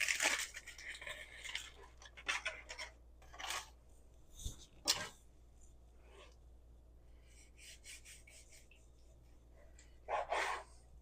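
A knife saws into the crusty bark of a smoked pork belly, cooked like a brisket. Several close, rasping cuts arrive in short bursts with quiet pauses between them.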